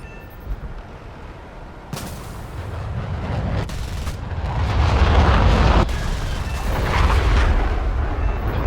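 Missile strikes from a French NF5A jet in a combat video game, a run of heavy booming explosions and rumbling blasts, sharp onsets at roughly two-second intervals over a loud continuous roar, with no talking.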